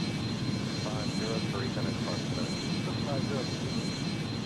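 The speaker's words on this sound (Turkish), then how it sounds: "Boeing MD-80 e, gerçekten iyi bir uçak." Boeing MD-80 jet engines in the mobile flight game Airline Commander roar steadily and loudly, a continuous broadband rush with a thin whine that never lets up.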